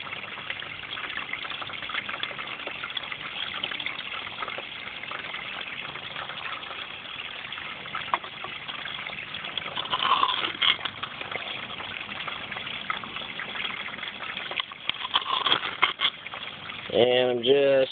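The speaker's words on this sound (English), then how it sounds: "I'm going to load some of this down through this bucket sluice." Water gushes and splashes through a bucket sluice as gold-bearing material is slowly fed in while prospecting, a steady close rush with brief louder surges and a few scraping knocks near the end.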